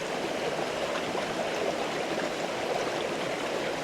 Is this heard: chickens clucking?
no